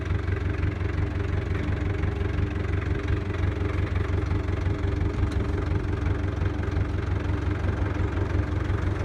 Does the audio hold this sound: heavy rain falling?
no